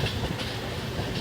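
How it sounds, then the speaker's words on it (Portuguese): A train rolls along its rails with a steady rumbling clatter of wheels, even and continuous throughout. "O som do trem me dá uma sensação de meditação."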